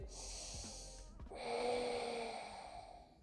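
Deep breaths during seated office yoga: a long breathy inhale, a short pause, then a fuller, louder exhale close to the microphone, with no speech.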